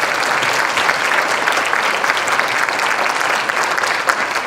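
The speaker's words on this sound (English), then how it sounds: "let's give them one more round of applause" A room of people at a Rotary meeting gives the contestants a round of applause, a loud, dense, continuous clapping that lasts the whole stretch with no break.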